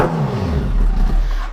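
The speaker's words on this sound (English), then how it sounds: "just thought I'd give you a bit of a rev bomb in the garage" A motorbike engine revs hard inside a garage, a loud close roar with a rumbling low end that swells and holds for a moment.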